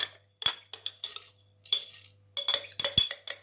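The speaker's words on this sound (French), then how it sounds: "je vais prendre mes cuillères doseuses" Measuring spoons clink against each other and a bowl while homemade old-style mustard is made from vinegar-soaked mustard seeds, several sharp metallic taps and rattles in short bursts, close and clear over a faint low hum.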